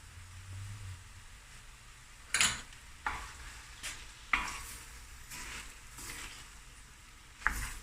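Beef mince with garlic and ginger paste being broken up and stirred as it fries in a pan for a mince and cauliflower curry, with a soft sizzle beneath repeated sharp scrapes and clinks of the spatula against the pan.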